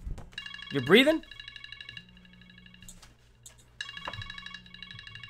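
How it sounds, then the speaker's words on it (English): A phone alarm rings in a repeating electronic ringtone pattern, with bursts coming in two stretches separated by a pause, under a man's speech and breathing during a FIFA 18 gaming session. "Oh, that phone's going."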